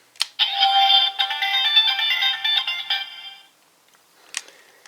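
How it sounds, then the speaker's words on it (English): GabuGabu Henshin Ju DX Ryu Tsueider toy from Uchu Sentai Kyuranger, switched on: a button click followed by a bright electronic confirmation jingle of a few seconds, then a short beep, close and clear with no talking. "starting by switching on, you get a confirmation latent sound similar to the Seiza"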